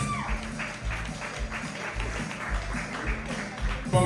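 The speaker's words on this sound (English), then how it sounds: "Round of applause." An audience at a Tejano music awards ceremony applauds a Songwriter of the Year nominee with a steady patter of clapping, moderately loud and continuous throughout.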